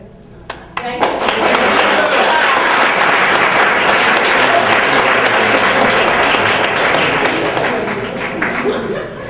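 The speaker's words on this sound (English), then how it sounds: "give another round of applause" Loud, sustained audience applause and clapping at a retirement event, a dense crowd roar that swells quickly and holds steady for several seconds before easing slightly toward the end.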